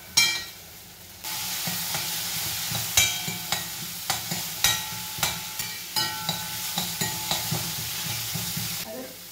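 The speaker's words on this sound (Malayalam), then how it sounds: "പിന്നെ ഇഞ്ചി, പച്ചമുളക്, വെളുത്തുള്ളി, കറിവേപ്പില എല്ലാം ഇട്ടു നന്നായിട്ടൊന്ന് വഴച്ചാം." Onion, tomato, ginger, green chili, garlic and curry leaves sauté in a pan with a loud, continuous sizzle, broken by a regular run of sharp spatula scrapes and clicks, then stops abruptly.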